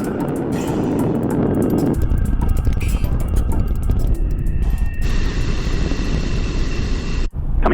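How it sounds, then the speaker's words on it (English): Space Shuttle Atlantis, with all three main engines at full throttle, climbs away from Kennedy Space Center, and a loud, continuous rumbling roar fills the whole stretch, shifting slightly in tone near the end. "All three engines looking really good, back at full throttle now at liftoff."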